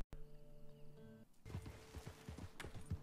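Horse hooves clip-clop with irregular thuds as the animal struggles up a hill, a series of close, heavy beats rising over a steady tonal hum in the background.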